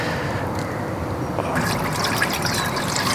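Water poured over a grouper fish head to wash it, a steady close splashing and trickling stream that grows busier and brighter midway, with no talk.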